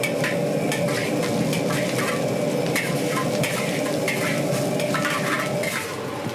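Carrots, cabbage, spring onions and bok choy stir-fry in a hot pan at a Mauritian street food stall, a steady loud sizzle with repeated scraping and clanking of a utensil throughout.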